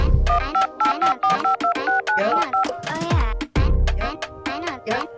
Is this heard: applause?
no